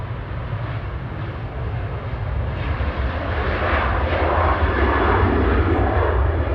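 A Cathay Pacific airliner takes off at Manchester Airport, a loud broad engine roar that builds steadily over several seconds and stays strong to the end, with no voices.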